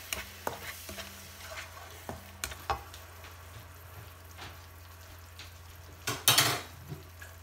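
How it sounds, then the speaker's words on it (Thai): Noodle ingredients are stir-fried in a pan with sugar and sauce, giving sparse metal clinks and scrapes from a utensil over a faint sizzle, with a louder burst of frying near the end. "จากนั้นเราก็จะผัดให้ทุกอย่างหอมหุยหุยเข้ากันนะคะ"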